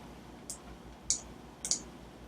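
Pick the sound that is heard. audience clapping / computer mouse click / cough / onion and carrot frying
computer mouse click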